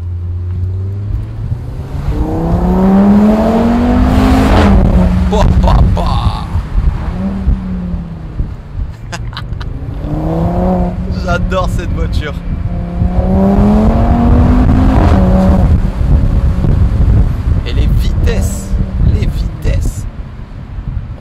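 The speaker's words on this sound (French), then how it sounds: "Cheveux au vent, le 5 cylindres qui chante." An Audi TT RS Roadster's five-cylinder engine drones and swells as it accelerates, rising in pitch in repeated surges, with wind noise and someone talking over it.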